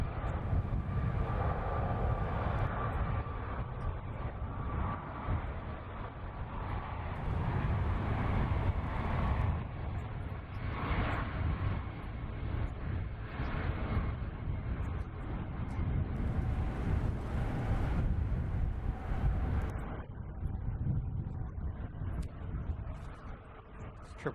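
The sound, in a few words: Delta Airlines Boeing 767 arriving at San Francisco Airport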